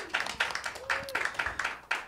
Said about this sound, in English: Give yourself a round of applause again just for coming out